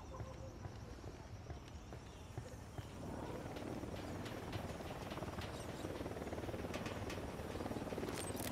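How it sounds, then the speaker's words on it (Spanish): A helicopter in Ghost Recon Wildlands descends toward the ground, its dense rotor thumping and turbine whine swelling louder and closer, while a voice speaks over the noise. "Se acerca un helicóptero al suelo."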